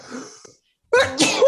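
A single sharp, close sneeze bursts out after a short pause, preceded by brief talk amid a casual beer-tasting conversation.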